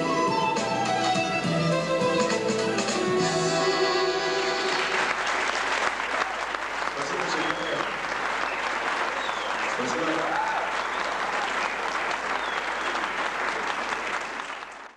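A concert audience fills a hall with dense, loud, sustained applause lasting the whole stretch, following a few seconds of fading music, with no voices standing out.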